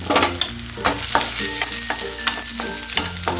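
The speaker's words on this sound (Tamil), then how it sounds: "பூண்டு போட்டிருக்கேங்க. பூண்டு நல்லா வதங்கட்டுங்க." Garlic sautéing in hot oil in a kadai, with a steady sizzle and repeated scraping stirs of a spatula against the pan, close and fairly loud.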